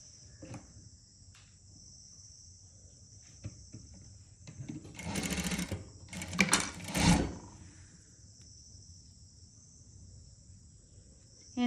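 A sewing machine stitches a saree blouse in a few short bursts, the middle runs loudest, over a thin, steady high whine in an otherwise quiet room.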